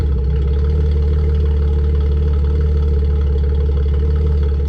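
An Alfa Romeo Spider 3.0 V6 with a Wizard exhaust runs at a steady idle, a loud, deep, continuous burble close by with no voices.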